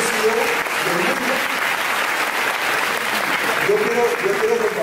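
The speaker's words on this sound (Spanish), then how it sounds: "me gustaría que le demos un fuerte aplauso a Bill Farley" A crowd claps loudly and continuously for a CEO at a corporate training event, a thick sustained roar of applause with some voices and cheering mixed in throughout.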